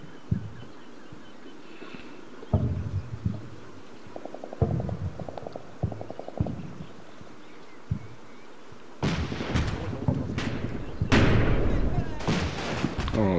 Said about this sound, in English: he's still dropping mortars about the place